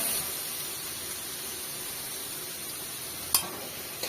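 Onion, garlic and green chili frying in a pan in a village kitchen, giving a steady close hiss of oil with little variation, broken once by a sharp brief click.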